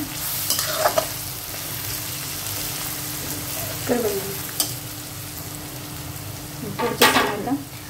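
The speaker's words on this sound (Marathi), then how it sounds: "तिखट टाकून घेतलंय आणि ते पण तेलामध्ये परतवून घेते" Capsicum and chili powder sautéing in oil for a spicy capsicum rice, with a loud, close sizzle and repeated spatula scrapes and stirs against the pan, the last one strongest.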